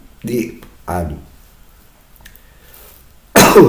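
A harsh, broadband burst near the end, like a cough, follows a couple of short vocal sounds and a quiet stretch.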